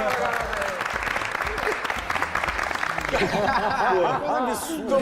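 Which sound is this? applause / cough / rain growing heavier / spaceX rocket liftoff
applause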